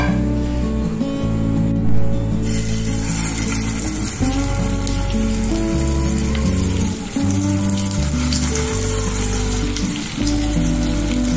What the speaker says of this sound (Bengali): এবার এটাকে আমরা করবো শ্যালো ফ্রাই।